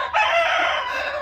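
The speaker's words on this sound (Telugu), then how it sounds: "చూడండి కోళ్ళు ఎలా తింటున్నాయో." Country chickens in a farm shed, one bird letting out a single loud, close call, a rooster-like crow that fills the short moment.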